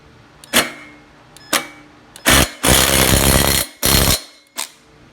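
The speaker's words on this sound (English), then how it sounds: "I'm going to try out my new impact to tighten this in." A 12-volt impact driver tightening a fastener on a Craftsman engine, with several short loud rattling bursts followed by a longer hammering run of a second or more, another sustained burst, and a final brief hit, all close by.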